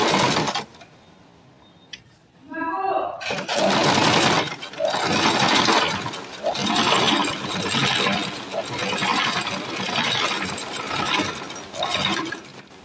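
Domestic sewing machine running in bursts: a short faint stitch start, then a loud, fast, steady mechanical whirr and needle clatter that continues close up for about ten seconds.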